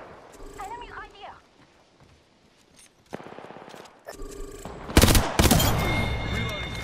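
Gunfire in Apex Legends arrives as rapid rattling bursts that grow loudest near the end, with quieter game sounds and a voice speaking earlier in the clip.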